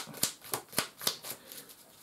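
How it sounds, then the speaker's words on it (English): A deck of board game cards shuffled for Dwellings of Eldervale gives a quiet series of evenly spaced crisp riffles and snaps, about seven in two seconds, close and soft. "So we shuffle all of the cards back together."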